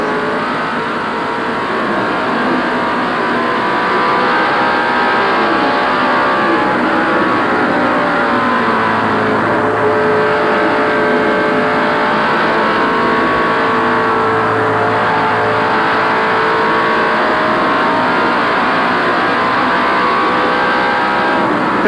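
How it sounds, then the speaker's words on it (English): Stock race cars roar around Darlington racetrack during the 1988 Transouth 500, a continuous loud engine drone that swells and fades as the pack laps by, with no talk over it. "Let's just take a lap here with Dale, and we'll hear what it's like to watch and to listen a lap at Darlington."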